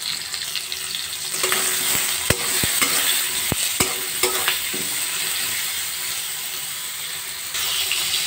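Teasel gourd pieces fry in hot oil with black cumin, a steady bright sizzle broken by several sharp spatula scrapes and stirring knocks, close and loud with no talk.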